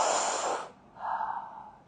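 A person breathing out hard through the mouth during a guided breathing exercise, a loud breathy exhale lasting most of a second, then a softer second exhale, alone with no talk.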